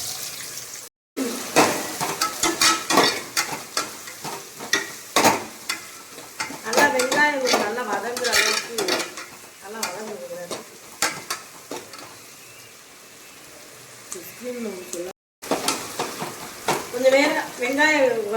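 Onions fry in a pan for fish curry, sizzling close up while being stirred with repeated scrapes and clatters, and a voice talks at times over the cooking.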